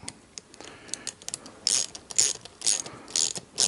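A ratchet wrench clicks in quick bursts while tightening lock nuts on battery terminals for a DIY emergency power station, with close, crisp pawl ratcheting in uneven strokes.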